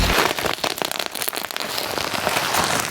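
Crinkly plastic wrapping is pulled off an Evangelion Unit-01 model kit box, version 1.5, making dense crackling and rustling bursts that come close together and stay loud throughout.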